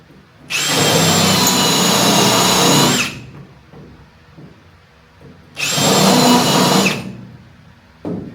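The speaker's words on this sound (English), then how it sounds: "So I'll go through, drill them all out" Power drill boring out spot welds in a classic car's steel floor, two loud sustained bursts of high whining grind about two and a half and one and a half seconds long, separated by a quiet pause, with a third starting at the end.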